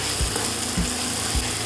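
Onion, beans and carrot frying in a pan give a steady close sizzle, with three soft rhythmic thumps of stirring underneath.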